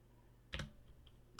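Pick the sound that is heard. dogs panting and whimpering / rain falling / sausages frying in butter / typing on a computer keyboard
typing on a computer keyboard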